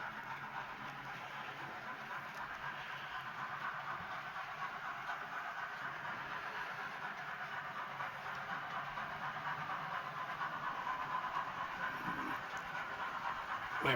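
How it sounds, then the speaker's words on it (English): A Rapido Stirling Single model steam locomotive runs with GNR teak coaches, giving a faint, steady hissing, rolling sound that carries on without break and with no voices. "Impressive, that chuff chuff."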